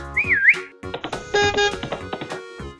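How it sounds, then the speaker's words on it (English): A person whistles a bright warbling tune that slides up and down briefly, followed by cartoon sound effects and lively background noise. "Can you teach me to whistle like that?"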